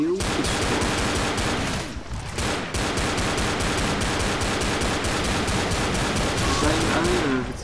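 Dual-wielded pistols fire nonstop in a zombie video game, making a loud, dense stream of rapid shots with only brief gaps.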